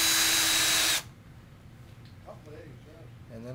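Power drill driving a screw into a bifold closet door track, a loud close whirring burst lasting about a second that stops sharply, followed by quieter speech.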